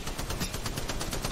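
Rapid automatic gunfire in the mobile battle royale game Apex Legends Mobile, a dense, steady stream of shots filling the whole moment at close range with no break.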